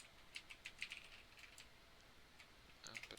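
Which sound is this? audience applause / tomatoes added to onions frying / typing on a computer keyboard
typing on a computer keyboard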